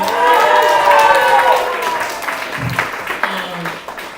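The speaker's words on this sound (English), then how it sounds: "Can we give another round of applause to Kai?" A crowd at the Kai Heartlife Oxbow fundraising show applauds and cheers for Kai: steady clapping with whoops and raised voices, loudest early on and then thinning out.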